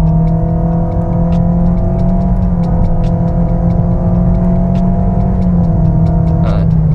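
Engine of a new Toyota Yaris G Limited holding a steady drone as the car drives, a gear change showing as a brief dip in pitch, heard from inside the cabin with occasional clicks.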